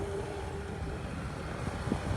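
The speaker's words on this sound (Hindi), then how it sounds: "यहाँ पर मशीन चल रहा है, ये गाड़ी को लोड कर रहा है।" Low steady engine rumble of an excavator running while loading a vehicle, heard from a distance with wind noise over it, fairly faint and continuous.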